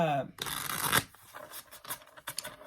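A deck of tarot cards is riffled and shuffled up close, a quick burst of flicking followed by softer card handling and light taps.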